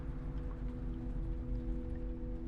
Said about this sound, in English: It's a rainy planet.